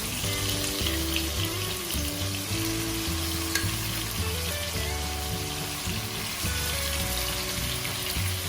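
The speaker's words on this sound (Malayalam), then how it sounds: "ഈ ചിക്കൻ ഇതിലിട്ടിട്ടൊന്ന് ഫ്രൈ ചെയ്തെടുക്കണം" Chicken fries in butter over a medium flame for chicken tikka masala, a loud, dense, continuous sizzle with a low tonal hum underneath and no pauses.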